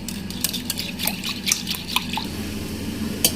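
Milk and cream are beaten together in a bowl, making wet sloshing and light clinking strokes in an uneven rhythm, close by and moderately loud.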